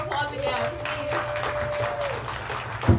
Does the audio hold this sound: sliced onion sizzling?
no